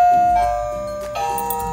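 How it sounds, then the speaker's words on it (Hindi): A toy doorbell on a plastic locking dollhouse chimes, with two clear tonal rings in quick succession, close and bright, each fading with a sustained tone. "चलो घंटी बजाते हैं।"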